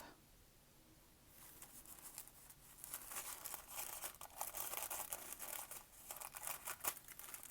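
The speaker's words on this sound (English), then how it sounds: "So what I'm going to do is I'm going to cut this in half." Scissors cut a sheet of paper in half for a craft. Quiet, close crinkly snipping and rustling start after a second of near silence and continue in an irregular patter.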